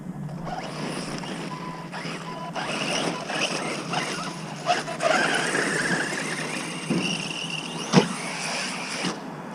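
A 4S Arrma Granite RC monster truck fitted with an Outcast chassis and a heavy battery drives outdoors in strong wind. Its electric motor whines and squeals steadily over gusty noise, with sharp thumps and clatters from landings and bumps.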